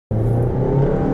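A Honda Amaze engine pulling hard in first gear up a slope, a loud close steady drone that starts abruptly and holds at high revs without any voices.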